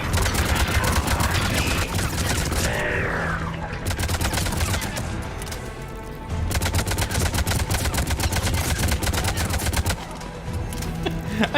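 Sustained rapid rifle fire in Mass Effect 3, loud bursts of crackling shots packed closely together with brief pauses between volleys.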